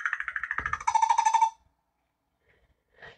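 A recorded bird rattle call plays: a quick series of rapid repeated notes building into a denser rattling burst, close and clear, then silence and a brief faint final note.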